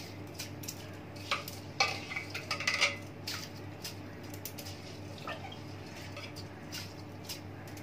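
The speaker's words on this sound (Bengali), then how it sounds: "এবার আমি চাল আর ডালটা ভালো করে মিশিয়ে দিচ্ছি।" Gobindobhog rice and roasted, washed dal are stirred together in a pot, a spoon scraping and clinking against the metal in short irregular bursts over a low steady hum.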